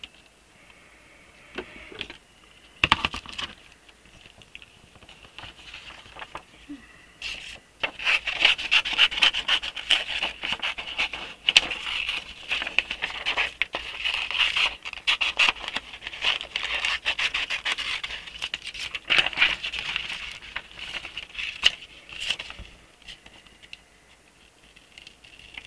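Scissors cutting out a paper printable, a soft, close rasping and rubbing that runs in steady bursts through most of the stretch, with a few sharp ticks early on.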